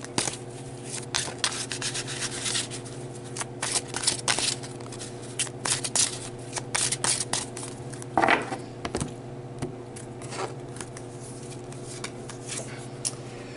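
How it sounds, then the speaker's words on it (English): Tarot cards being shuffled by hand, a run of soft rubbing, riffling and tapping sounds with brief louder slaps, fairly close and without any speech over it. "let's pull one final card"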